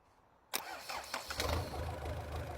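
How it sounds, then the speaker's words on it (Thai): A diesel engine jumpstarted without a battery cranks and catches with a sharp onset, then chugs and settles into a loud, uneven idle with a few rising revs. "ตอนนี้เครื่องเราก็ติดแล้วนะครับ ติดได้ เร่งได้ปกตินะ"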